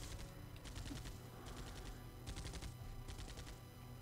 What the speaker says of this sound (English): my machine gun is going to make mincemeat of them